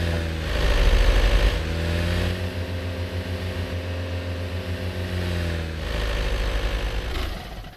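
A vehicle engine in the Arma III video game idles with a steady low hum and a faint rev, then winds down and fades out near the end.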